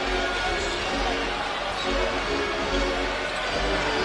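A basketball crowd at Madison Square Garden during a Brooklyn Nets versus New York Knicks game murmurs anxiously, a steady loud roar with sneakers and ball bounces beneath continuous commentary.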